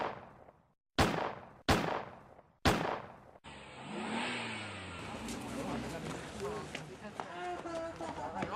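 Three sharp, loud gunshots ring out in a staged shooting scene during a school Chanukah play, followed by a burst of crowd commotion, screams and a rising siren-like wail.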